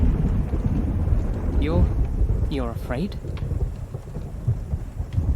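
A thunderstorm brings steady rain and a low rumble of thunder under a close, soft voice speaking briefly.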